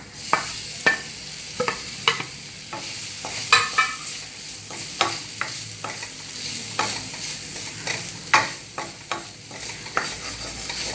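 Grated coconut stirred in a pan with fried cashews and raisins, giving a quiet steady sizzle punctuated by repeated sharp scraping and clinking strokes of a spoon against the pan.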